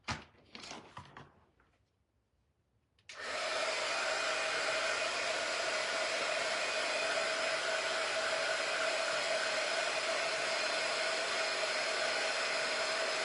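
Hair dryer running, starting with a few brief handling knocks, a short quiet gap, then a sudden switch-on into a loud, steady, continuous blowing whir that holds unchanged for about ten seconds.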